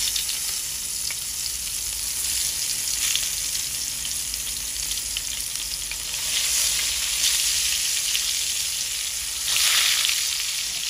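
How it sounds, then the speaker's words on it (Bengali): Eggplant pieces fry in hot oil, a loud steady crackling sizzle heard up close that swells in a few bursts, likely as the pieces are stirred or turned, with no speech. "এর মধ্যে বেগুন দিবে তেলে না?"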